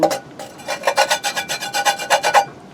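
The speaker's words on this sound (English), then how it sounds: "Some of that is scraping off now." Residue is scraped off a surface from a stove in quick rhythmic rasping strokes, about a dozen close, even scrapes over a few seconds with no talking.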